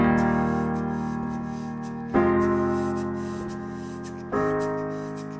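A piano plays the bridge of a song, with three full chords struck about two seconds apart, each ringing out and slowly decaying, played solo with no voice.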